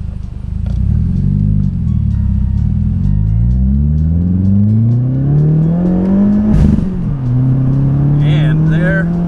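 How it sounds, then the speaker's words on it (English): A 2015 Subaru WRX turbo engine rises and falls through the gears, heard from inside with windows down, then its aftermarket hybrid blow-off valve vents in a brief loud whoosh at a clutch-in shift before the engine drone resumes. "You can hear that blow-off valve going"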